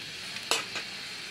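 Fish curry gravy bubbling in a pan, a steady soft simmering hiss with a couple of brief louder pops or splutters near the middle, close and fairly quiet, with no talking.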